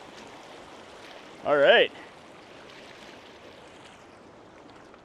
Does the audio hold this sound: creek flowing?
yes